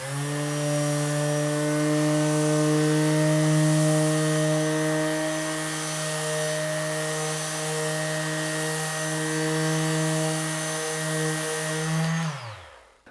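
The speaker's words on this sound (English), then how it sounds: "We don't really need to do this with the random orbit sander, but we will anyway." Random orbit sander running on wood, a loud steady electric whine with a constant pitch held for about twelve seconds close up, then winding down abruptly at the end.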